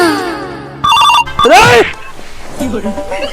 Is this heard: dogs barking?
no